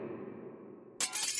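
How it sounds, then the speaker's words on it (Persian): Glass shatters in a video game, a sudden bright crash that cuts in after a low steady rumble and rings on briefly. "شکستن شیشه اومد"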